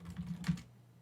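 Several quick keystrokes on a computer keyboard, close and fairly quiet, tapped in a short burst with a slightly louder press near the middle.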